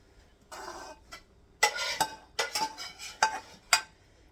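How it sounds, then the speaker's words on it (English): Metal utensil scraping and stirring Bratkartoffeln in a pan: short, sharp scrapes arrive in uneven bursts, close and fairly quiet, with faint sizzling between strokes. "Don't scrape too hard, Jack. You'll scrape your pan."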